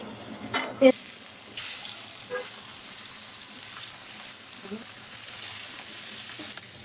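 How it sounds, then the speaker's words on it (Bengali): A Mrigal fish full of roe fries in mustard oil in a frying pan, giving a soft, even sizzle with a sharp knock near the start and faint scattered pops. "দেখুন বন্ধুরা মাছটা ভাজা হোক"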